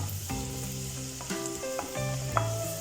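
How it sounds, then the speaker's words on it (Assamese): Chopped ginger sizzles steadily in hot oil in a pan while a utensil scrapes and stirs, cooked for restaurant-style chilli chicken, with a continuous close crackle and no talking. "আকৌ ইয়াতে মই কুটি থোৱা আদাখিনি দি দিলোঁ। এইখিনি অলপমান ভাজি ল'ব লাগিব।"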